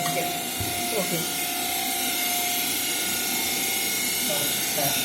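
A DC series motor runs under a load test, holding a steady mechanical whir with a fixed tone and a ratcheting rattle while someone talks over it.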